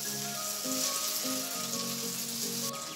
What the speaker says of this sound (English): Now let's fry the capsicum.